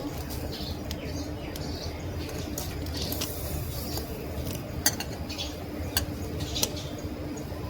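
Potatoes frying in a pan with turmeric, cumin and chili powder, stirred with clinking utensil scrapes and a steady low sizzle, a few sharper metallic taps standing out near the end.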